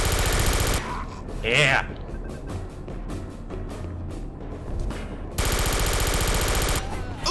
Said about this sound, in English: I like multi-barreled, rapid-firing guns.